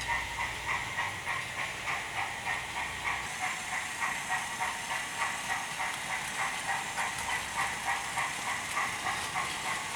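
A Hornby Franco Crosti 9F model steam freight locomotive running with its TTS sound unit, giving a steady, rhythmic chuffing beat with a faint mechanical hiss, alone and at modest volume.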